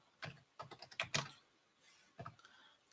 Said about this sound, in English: So I'm going to type a few more items,